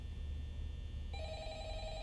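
Telephone ringing in a horror video game, a steady electronic ring tone that grows louder and richer partway through, heard alone over a low background hum.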